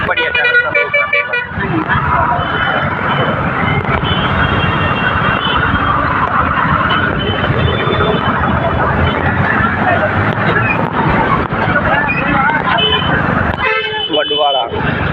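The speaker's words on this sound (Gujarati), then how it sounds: "બહુ ટ્રાફિક હો 4 રસ્તા" Heavy traffic at a busy four-way crossroads on a highway, a dense wash of engines and road noise with horn toots at the start and end. Someone talks throughout.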